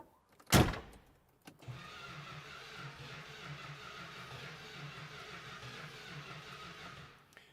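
Dodge Hemi Daytona engine cranked on a first start attempt with no fuel being drawn up: a sharp click, then a steady, fairly quiet mechanical whirring that runs for about six seconds without catching.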